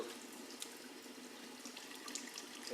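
Water leaking out through a hole in the side of a black bottle, a faint, steady trickle with tiny scattered drips, quiet and close, no voices.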